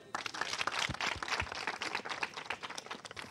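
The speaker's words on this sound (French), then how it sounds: "On va l'applaudir." A studio audience on a Belgian film quiz show claps steadily for a contestant, a dense, even patter of many hands at moderate volume.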